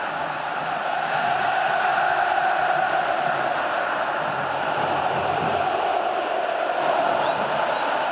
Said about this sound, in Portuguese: a torcida do Botafogo aumenta o volume